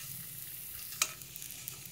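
Local fish shallow-frying in a pan, a steady quiet sizzle and crackle with one brief sharp clatter near the middle and small pops after, no talk.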